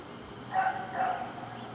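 A dog at a disc golf course barks twice, somewhat distant and muffled, over a steady outdoor background hiss.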